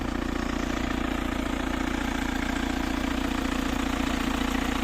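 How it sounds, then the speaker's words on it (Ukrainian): The engine of a homemade 4x4 tractor idles after being started with a key, with a steady, close, low chugging drone that holds even throughout. "І це зараз ми його запустимо навіть без цеплення, без нічого, просто ключиком."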